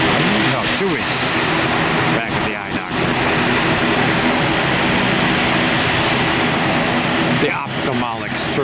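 Airplane taxiing at an airport, its steady jet engine roar loud and continuous throughout, with brief voices talking over it.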